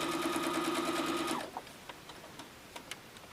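A sewing machine stitches four quilt patches together for a small quilt trading card, running as a loud, steady rapid whir for about a second and a half before stopping, followed by faint clicks and handling of fabric.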